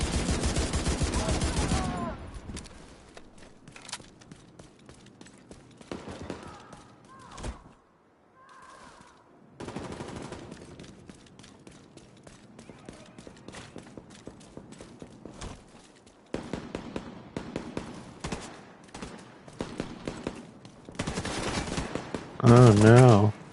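Gunfire in The Division 2 on PS5, with bursts of rapid automatic shots in loud clusters separated by quieter gaps and a final heavy volley near the end.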